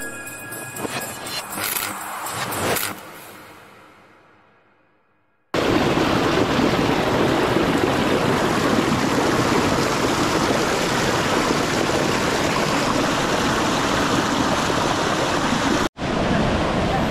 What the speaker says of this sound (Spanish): yo estoy emocionado de conocer esa hermosa cascada